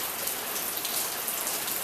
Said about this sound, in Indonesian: suasananya ini hujan